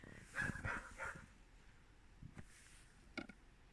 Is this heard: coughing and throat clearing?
no